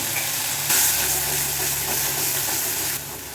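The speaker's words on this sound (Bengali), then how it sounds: "ফোড়নটা যখন চটকট চটকট করবে তখন এর মধ্যে দিয়ে দেবো টমেটো" Chopped tomatoes drop into crackling spice tempering in hot oil for a Bengali Sunday lunch dish, a loud, close, continuous sizzle that surges when they go in, then hisses steadily without speech.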